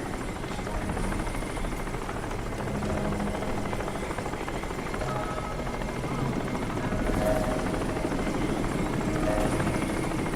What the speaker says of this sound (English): There's actually a second chopper somewhere.